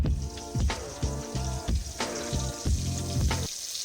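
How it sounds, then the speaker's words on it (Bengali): Prawns dropped into hot oil in a kadai sizzle loudly and continuously, with dense crackling and popping bursts throughout. "তেল গরম করে কড়াইয়ের মধ্যে ছেড়ে দিতে হবে চিংড়ি মাছগুলো"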